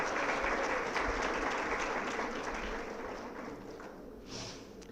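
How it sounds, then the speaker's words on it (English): Steady applause from an audience at an annual retreat, a continuous mid-level wash of clapping that slowly tapers over five seconds, heard at some distance without talk. "May we please have a round of applause for Dr."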